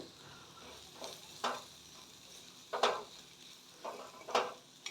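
Kachori filling of gram flour fries quietly in a pan on low flame, with several distinct stirring scrapes and brief sizzling bursts spaced about a second or more apart over a soft background.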